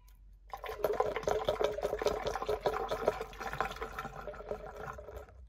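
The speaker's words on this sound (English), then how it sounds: "So what we're going to do is just keep on pouring in fluid until we get to the top of the radiator" Coolant is poured into the radiator of a 2017 Yamaha Viking, a steady gurgling liquid stream lasting several seconds, close and moderately loud, before stopping abruptly.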